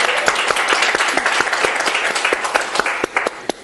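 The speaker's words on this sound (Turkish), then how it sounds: "Lütfen kendinize alkışlar mısınız?" A studio audience at a Turkish television show applauds itself, a loud, close, sustained clapping that continues steadily throughout with no break.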